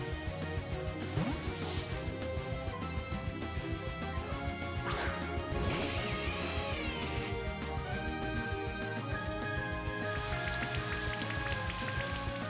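Steady rain from the Rain Dance move in Pokemon Brilliant Diamond pours across the whole stretch, a dense patter layered over game music, with a couple of sharper crashing hits in the middle.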